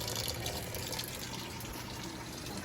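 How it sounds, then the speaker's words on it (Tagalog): Tap water pours steadily into a cooking pot for boiling eggs, a continuous close splashing rush that fades slightly toward the end. "lalagyan ko pa ito ng tubig."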